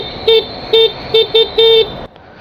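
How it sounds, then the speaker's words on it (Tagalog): A Hero Xoom 110 scooter horn beeps five times in short high-pitched toots, the last held a little longer, loud and close. "Busina. Yes, high pitch."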